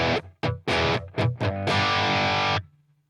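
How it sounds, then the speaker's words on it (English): Helix Revv Gen Purple amp patch on electric guitar with reverb switched off: a few short, loud, heavily distorted chord stabs cut off dry, then one longer sustained chord that stops abruptly, leaving only a faint hum. "This is what happens when you turn the reverb off"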